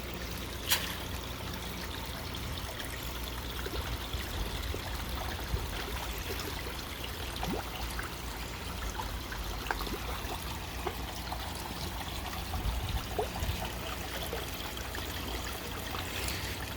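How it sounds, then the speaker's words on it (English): An aerator bubbles and trickles steadily in a temporary tank holding large rescued koi, a continuous close burbling wash with faint splashes, no talking. "They right now just have an aerator, which is good for the few days"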